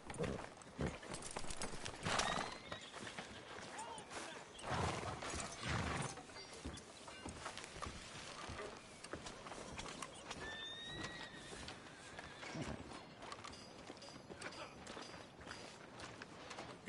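A horse's hooves clip-clop in a steady walking rhythm on a street while it gives a couple of whinnies, mixed with ambient town noise and occasional footsteps in a Western game setting.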